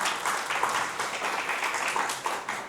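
A church congregation claps in unison, a brisk, steady round of applause filling a large room for a few seconds.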